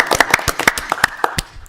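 Hand claps ring out at a town council meeting, a dozen or so sharp, uneven claps spread over a couple of seconds, sounding like a small group applauding close by.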